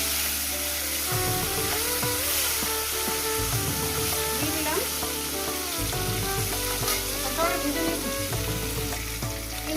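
Two tilapia fish fry in hot oil with a continuous loud sizzle and spitting crackle throughout, plus occasional faint clinks.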